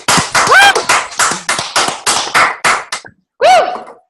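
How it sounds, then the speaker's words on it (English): About nine sharp, evenly spaced hand claps come through a morning group call, close and loud, then a short pause before an excited voice whoops. "So round of applause for that."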